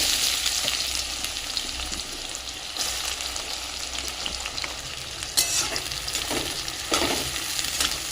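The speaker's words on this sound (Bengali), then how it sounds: "ভালো করে ভাজা ভাজা হবে পেঁয়াজটা।" Onions sizzle and crackle steadily in hot oil with whole cloves, cardamom and cinnamon, with occasional stirring scrapes punctuating the continuous frying, close and fairly loud.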